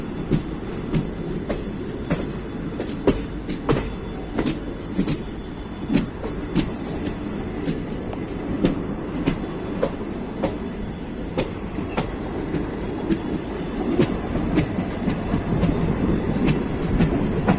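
The Uttar Sampark Kranti train rolls along the rails from Kathgodam, a steady loud rumble heard from on board with rhythmic clickety-clack wheel beats throughout and no voices.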